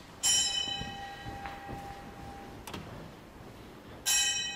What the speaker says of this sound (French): on sonne une cloche, afin de réveiller les jeunes prêtres